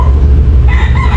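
Chickens on a free-range farm in the countryside cluck and crow loudly close by, one brief crowing call rising over a steady low rumble with no talk.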